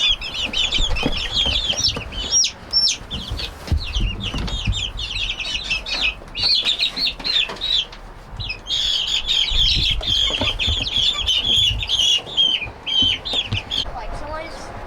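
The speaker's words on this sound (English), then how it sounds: "All right, we got chicks inside, half of them." Young chicks in a coop cheep and cluck almost continuously in a busy, overlapping chorus, loud and close, with short pauses between bursts of high peeping.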